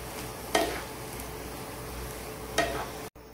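Sautéed vegetables for a street-style veg kathi roll being mixed with salt and black pepper in a pan: a soft continuous sizzle with two sharper stirring scrapes, fairly quiet, no talking.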